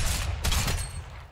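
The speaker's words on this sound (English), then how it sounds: "Our drum shotgun." A drum shotgun fires in Fortnite, a quick burst of two or three heavy blasts in close succession, loud and up close with no talk.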